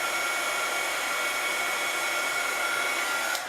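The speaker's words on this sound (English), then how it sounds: "I'm just going to zap this with the heat tool just to make sure that it's dry." A heat tool blows steadily and loudly at close range to dry ink on a paper stamped image before Copic coloring, a continuous even whoosh that cuts off right at the end.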